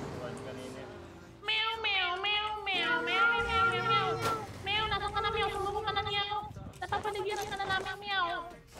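Meows from a cat in a shooter video game set at a gas station sound as repeated drawn-out calls in a series of bursts. The voice of a player talking is heard over them, and the meows may be his imitation.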